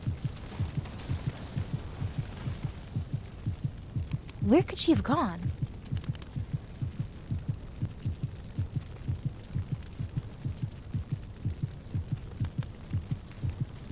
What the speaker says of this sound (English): Why is my heart pounding so hard?